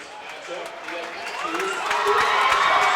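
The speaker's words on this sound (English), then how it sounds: "We are right in the middle of the Wabash crowd, as you'll hear here shortly." A Wabash boys basketball crowd at a high school sectional game against Oak Hill roars from close by, cheering and shouting in a dense wall of voices that swells steadily louder over the few seconds.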